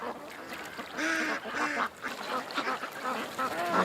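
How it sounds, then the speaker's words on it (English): Several ducks quack outdoors in short rapid calls, close and continuous, with one call overlapping the next and no voices. "Some duck footage for the afternoon here."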